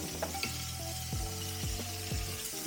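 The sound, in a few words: filet mignon searing in a pan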